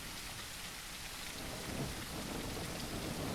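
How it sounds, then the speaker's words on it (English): Rain pours steadily in an Unreal Engine 5.3 game scene while thunder rumbles low through a thunderstorm, a dense, even wash of falling water heard at low volume without voices. "I guess it is a thunderstorm."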